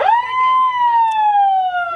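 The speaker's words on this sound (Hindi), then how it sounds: "ये मैडम सायरन बजा दीजिए, दिखा दीजिए लोगों को।" A hand-operated air raid siren cranked during a civil-defence demonstration in India, its single loud wailing tone rising, holding steady and slowly sliding down over two seconds, close to the listener.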